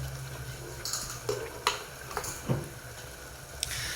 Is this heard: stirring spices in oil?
yes